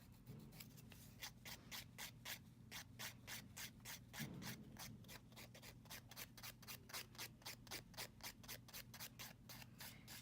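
A nail file rubs rhythmically along the sides of a fingernail, quick even strokes repeating steadily in a quiet room, soft and close with no talking.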